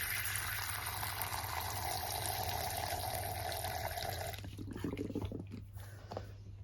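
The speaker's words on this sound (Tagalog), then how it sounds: "Lagyan natin ng tubig." Water pours steadily into a Chromatopelma cyanopubescens (green bottle blue) tarantula enclosure, a close, soft continuous splash that stops partway through, leaving quiet handling noises.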